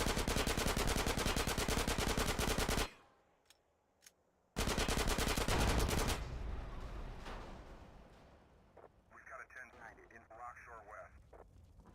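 Rapid machine-gun fire rattles out in GTA San Andreas, aimed at a tank inside an airstrip hangar: a loud, continuous burst, a brief gap with single shots, then another sustained burst that trails off into quieter game sounds.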